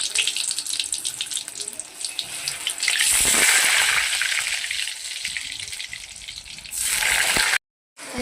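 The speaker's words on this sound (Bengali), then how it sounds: "এবার আমি আলুটা ভেজে নিচ্ছি।" Potato pieces frying in hot oil for home-made mutton biryani give a steady broadband sizzle that swells louder midway, with faint clatter, then cuts off briefly near the end.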